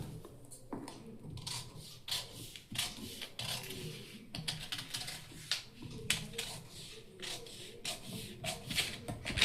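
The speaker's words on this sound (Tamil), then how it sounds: "இப்போ இதை நம்ம கட் பண்ணி எடுத்துக்கலாம்." Scissors cut blouse fabric for a center-gap blouse, giving a run of close, quiet snipping and rustling strokes at an irregular rhythm, with no talk.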